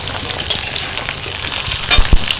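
Vegetables and bottle gourd stems frying in oil as they are stirred, a loud close sizzle with a few clunking spatula strokes, brief and without talk.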